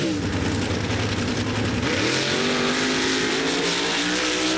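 Modified karts at a mud truck race in Laporte, Indiana, roar and rev hard off the line, engines climbing in pitch as they accelerate. The noise is loud, continuous and close, with no voices.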